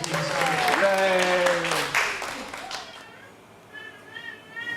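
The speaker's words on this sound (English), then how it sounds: "Why don't you give yourselves a round of applause for this?" Audience applause at a live band concert in a museum, loud clapping from a crowd that fades out, with voices and sung tones over it before it dies down.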